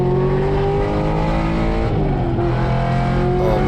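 A 650+ hp naturally aspirated Corvette C6 Z06 race car roars steadily on a small track at Thunder Hill West, loud, close and sustained, with a brief pitch dip midway.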